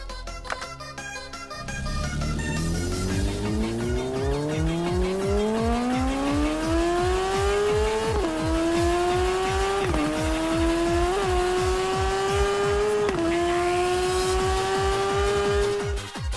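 A racing motorcycle engine from the TT Isle of Man game revs up from idle into a long, rising high-pitched whine, dipping briefly at each gear change and then climbing again, loud and continuous, with no talking.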